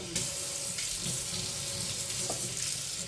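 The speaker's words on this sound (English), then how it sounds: "And carefully pour it in." Liquid pours steadily into a smoothie bowl in a home kitchen, a soft continuous trickling stream close by with faint clinks and no talking.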